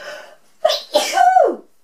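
A single loud, close sneeze with a sharp intake of breath before it.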